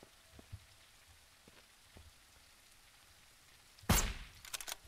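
Steady light patter of rain falling in the SurrounDead survival game, a faint continuous wash with a few soft ticks, broken near the end by a sudden loud sharp crack.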